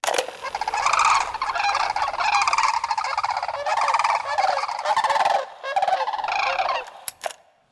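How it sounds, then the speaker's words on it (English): A recorded sandhill crane call, loud rolling bugling notes repeated in several long bursts with brief gaps, ending in a few short clipped calls. "I would like to briefly play the sound of a Sandhill Crane."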